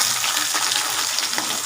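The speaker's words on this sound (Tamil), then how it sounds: "சின்ன வெங்காயம் நல்லா வதக்கிட்டோம்." Small onions sautéing in oil with cumin and fennel, a dense, steady frying hiss heard close and loud without pause.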